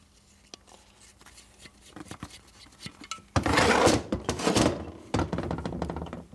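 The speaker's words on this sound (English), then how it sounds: "You notice how I'm slamming this thing around on my bench." Engine parts from a 1942 Harley-Davidson WLC 45ci flathead side-valve motor knock and scrape on a workbench during a rebuild, starting with light taps and building into loud, heavy clattering and rubbing bursts.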